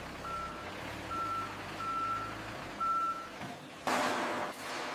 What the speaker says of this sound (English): Finished products are loaded into trucks for delivery to markets.